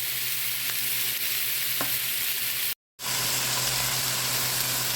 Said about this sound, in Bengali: সবজিগুলো ভালো করে একটু ভেজে নিব